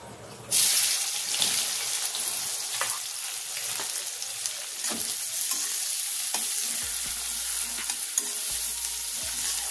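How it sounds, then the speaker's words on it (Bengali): Chopped onions land in hot oil in a wok and burst into a loud, close sizzle that settles into steady frying with occasional stirring scrapes. "এবার এই তেলের মধ্যে আমি কেটে রাখা পেঁয়াজটা দিয়ে দিচ্ছি"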